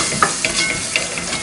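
Flour is stirred into melted butter and roasted in a pan, producing soft scraping strokes with light sizzling and a few sharp spoon clinks against the pan, close and brief.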